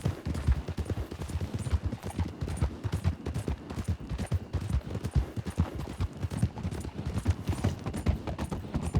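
Several horses gallop steadily in RedM on the road toward Blackwater, a dense, continuous patter of hoofbeats rolling on without pause, close and fairly loud.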